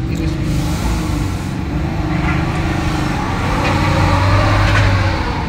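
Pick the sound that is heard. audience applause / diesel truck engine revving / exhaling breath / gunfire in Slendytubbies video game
diesel truck engine revving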